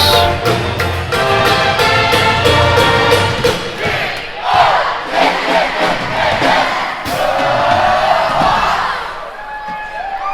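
A lively home crowd at a boys' high school basketball game between DeSoto and Hillsboro roars and cheers loudly, mixed with a pep band's music and a few sharp slams.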